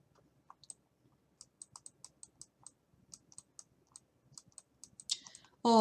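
Close, quick keystrokes on a computer keyboard while text is entered on a PowerPoint slide, a steady patter of clicks ending in a brief louder rustle and a sudden loud thump.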